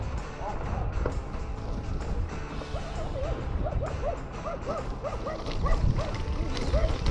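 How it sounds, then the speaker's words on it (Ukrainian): Several small dogs bark and yip in a quick, repeated series at mid distance, over steady outdoor background noise. "Песики."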